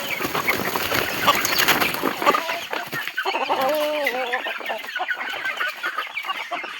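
Farmyard hens cluck and murmur close by in a poultry-rearing setting, a busy stretch of mixed clucks and short calls giving way to clearer, repeated clucking notes, loud and alone without talk.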